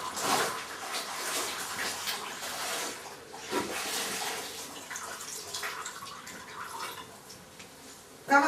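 A cloth is squeezed and wrung in hot water, giving a steady hiss of splashing and trickling water with uneven swells and a sudden splash at the end.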